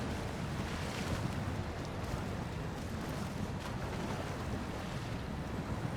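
A truck in the SnowRunner video game drives through deep river water in Alaska, making a steady, quiet, broad rushing wash that never lets up.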